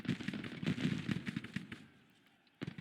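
Artillery firing in the Civil War strategy game Grand Tactician, a dense run of rapid, crackling booms that rolls on for about two seconds, then fades, with one more burst at the end.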